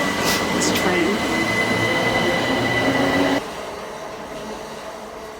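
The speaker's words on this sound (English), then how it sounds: "This train." Train interior on a trip to London, with steady loud rumble and wheel noise that drops to a quieter hum partway through as the carriage runs along the track.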